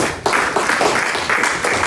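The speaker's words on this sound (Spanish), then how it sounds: "Denle un aplauso al Señor." A church congregation bursts into applause during a sermon, a dense, steady wash of clapping that swells in after a brief quieter moment and holds loud and close for the rest of the moment.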